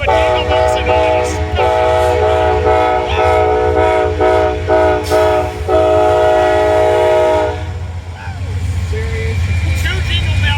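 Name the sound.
Amtrak train horn playing Jingle Bells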